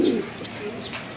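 Pigeons coo softly nearby in a short, low burst, with a faint background hiss.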